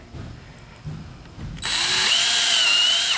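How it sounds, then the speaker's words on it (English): After a few quiet clicks, a cordless power drill whirs steadily for over a second, driving screws into a door hinge, close and fairly loud. "Make sure you don't over tighten the screws and strip them."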